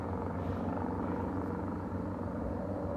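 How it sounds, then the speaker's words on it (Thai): A helicopter flies overhead near a hiking trail toward the Hollywood sign, giving a steady, continuous rotor rumble and drone with no talking. "เฮลิคอปเตอร์เนี่ยต้องไปรับคนที่เกิดอุบัติเหตุหรือป่วยอะไรแน่เลย"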